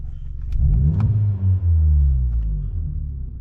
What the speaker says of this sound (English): if I rev it